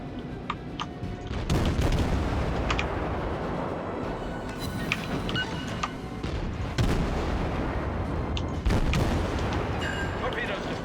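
Warship guns fire high-explosive rounds in the World of Warships game, heavy booming salvos at irregular intervals over a continuous rumbling battle backdrop, loud and close.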